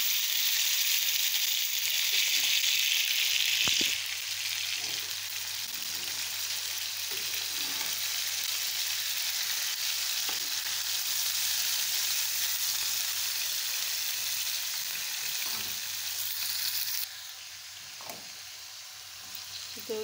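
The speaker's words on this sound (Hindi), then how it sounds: "इसको 2-3 मिनट कलर चेंज होने तक भुनेंगे।" Liver pieces frying on a hot tawa for a Pakistani-style tawa kaleji, a steady bright sizzle throughout with faint scraping stirs, no talk.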